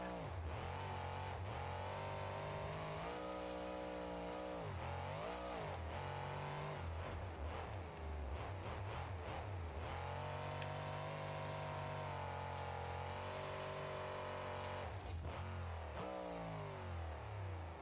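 A Ford Super Duty truck engine runs and revs in BeamNG.Drive, a loud steady drone with repeated rises and falls in pitch as the throttle is worked, continuous throughout with no voices.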